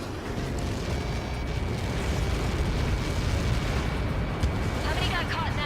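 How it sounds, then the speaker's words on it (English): A massive explosion from an Ace Combat 7 Skies Unknown mission, heard as a continuous loud rumbling roar that fills the scene, with a voice talking faintly underneath. "How many got caught in that explosion?"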